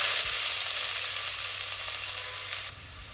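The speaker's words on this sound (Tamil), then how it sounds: "வெங்காயம் பூண்டு ரெண்டையும் சேர்த்து கொஞ்சம் வதக்கணும்." Finely chopped onions and garlic sizzle steadily in hot oil in a pan for a mutton keema curry, a loud, continuous frying hiss that eases slightly near the end.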